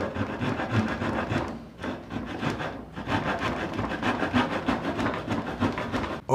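A hand saw cuts through wood for a dovetail joint, angled near 45 degrees to a marked line, giving steady rasping back-and-forth strokes close by with a short pause partway through, no talking.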